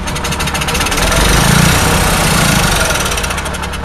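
An Onan generator engine cold starting after being fed fuel through an old Ford carburetor, running loud and steady with a rough, vibrating rumble across the whole stretch, swelling slightly midway, with no speech.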